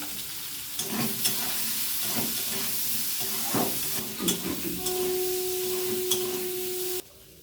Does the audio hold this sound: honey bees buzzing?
no